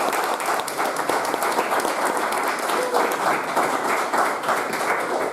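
Steady, dense applause from a live audience at a county jailer debate, sustained clapping at a constant loud level throughout with no pauses.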